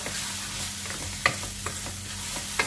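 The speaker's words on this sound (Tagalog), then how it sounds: "you use this to just scramble the egg" Egg being scrambled in a pan for a sushi bake, a soft continuous sizzle under a few distinct scraping taps of a utensil against the pan, close and fairly quiet.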